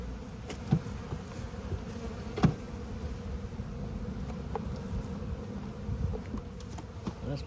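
Honey bees buzz in a hive during an inspection of a weakening colony, a close, continuous insect drone with a few louder buzzing passes.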